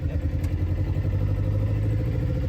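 A 1952 Triumph Mayflower car pulls away in first gear, its engine giving a steady, close low rumble with a light clattering note that holds evenly throughout.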